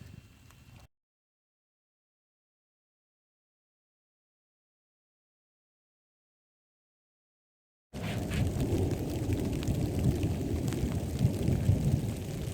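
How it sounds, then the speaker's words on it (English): Steady rain pours down during a passing thunderstorm, a dense, loud wash of drops with low rumbling beneath, heard after a long stretch of silence. "So you can probably hear it's raining and there's some thunder."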